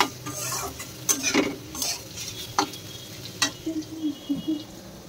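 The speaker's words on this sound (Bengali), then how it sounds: "এবার আলুটা খালি ভেজে নেবো, ভেজে নিয়ে তারপর মেশাবো" Potatoes fry in a pan with a soft sizzle, broken by sharp scraping and clinking of a spatula stirring against the metal in irregular strokes, close and without talk.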